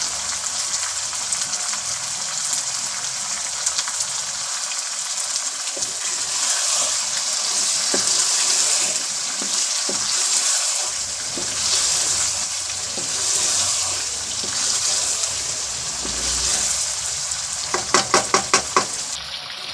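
Potato karahi frying and being stirred in a pan: a steady, close sizzle runs throughout with soft scraping, and a brief burst of rapid clicking near the end.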